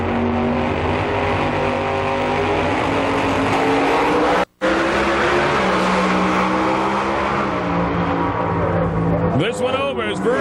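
Loud, continuous roar of drag racing engines at an IHRA Rocky Mountain Nationals event, Top Fuel and Pro Modified classes including a 1953 Corvette, with an announcer talking over the din, a brief dropout midway and a rising rev near the end.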